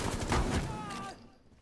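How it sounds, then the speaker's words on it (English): Gunfire striking a riot shield in the video game Rainbow Six, a dense burst of close, loud shots in quick succession that cuts off after about a second, leaving faint game ambience. "Accidentally shot my riot shield."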